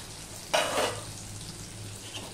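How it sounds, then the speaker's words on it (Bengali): Elephant foot yam frying in a pan with salt and turmeric for a Bengali dish, a sudden close hiss of sizzling flaring up and then settling into a quieter steady fry, no voices. "এবার নুন হলুদ দিয়ে আমি ওলকচুটা ভেজে নেব।"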